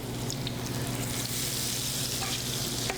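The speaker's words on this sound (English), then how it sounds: "Use a slotted spoon and spoon the cauliflower gently into the skillet." Coated cauliflower frying in a skillet of hot oil gives a steady, even sizzle that fills the clip from start to finish, with a low electrical hum underneath and no voices.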